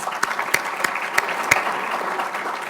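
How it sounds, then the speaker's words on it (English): A brief round of applause from an audience thanks the organizers of an evening civility-series conversation, dense clapping with a few sharp, distinct claps standing out near the front. "So if we could just give them a brief hand of applause."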